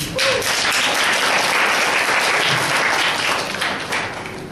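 Congregation applause at a church service, a loud, dense wash of many clapping hands sustained evenly throughout and tapering slightly at the end, heard alone.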